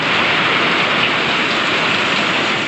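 Heavy pouring rain in a storm, with water running everywhere and enough force to bring trees down, a loud, steady dense hiss that stays constant throughout with no voices.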